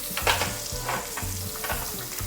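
A steak sears in a hot pan with a steady, close sizzle, broken by the repeated thuds and scrapes of flipping and basting with the pan's juices.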